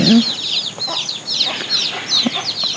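Soft clucking of a native country hen with high, thin peeping of chicks chattering continuously over a low background.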